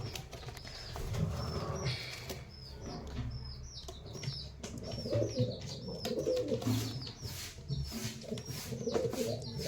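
Pigeons in a loft coo steadily and softly up close, with repeated chirps and bursts of wing flapping layered over a low, continuous murmuring.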